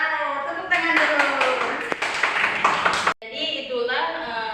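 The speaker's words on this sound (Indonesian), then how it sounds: "Wow, tepuk tangan dulu." A group clapping in a classroom during a chemistry lesson on corrosion, a burst of overlapping hand claps and voices lasting a few seconds before breaking off, with talking heard before and after.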